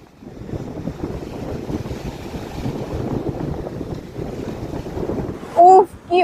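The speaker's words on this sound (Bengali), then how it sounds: "তাই সমুদ্রে এত ঢেউ" High-tide sea waves rolling in on Puri beach in the morning, a continuous broad rush of surf mixed with wind buffeting the microphone, and a couple of short voice-like calls near the end.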